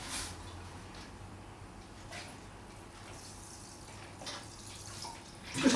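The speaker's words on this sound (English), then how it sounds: "A little bit of water." Gentle water from a watering can fitted with a rose, sprinkled over freshly sown seeds in a pot; a soft, steady low hiss for several seconds, faint and close, with a small clatter at the end.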